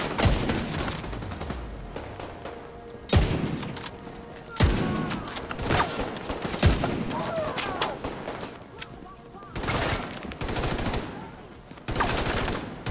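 Pistol fire and other combat gunfire in the shooter game The Division 2 crack out in sharp repeated bursts between quieter stretches, with a voice talking over much of it.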